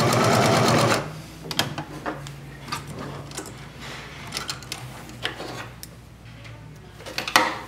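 A sewing machine runs in a steady burst for about a second while backstitching the handle of a handwoven tote, followed by quieter handling clicks and rustles of fabric.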